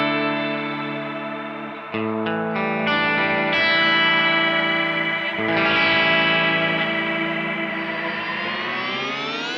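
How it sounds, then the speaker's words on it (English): An Eventide H90 effects unit runs its Wormhole cinematic reverb preset, a huge washed-out reverb with shimmering sustained tones that swell, layer and slowly bloom over nearly ten seconds of music, with no talking. "Even though this is a kind of mega reverb,"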